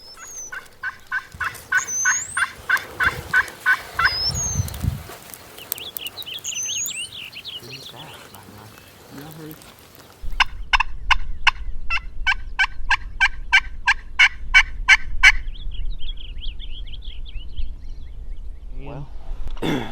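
Wild turkeys gobbling in Kansas fields, repeated rattling gobbles from more than one bird, some loud and close, others more distant, with a person speaking in between and songbird chirps in the background.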